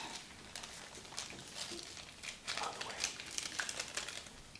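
A sheet of paper being folded in half while making an origami butterfly, close, quiet crinkling and soft creasing rustles in short irregular bursts, with no talking.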